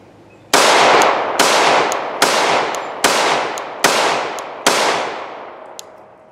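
A Glock Gen 5 Model 21 MOS pistol fires .45 ACP rounds: six loud, sharp close shots spaced about a second apart, each with a decaying echo tail.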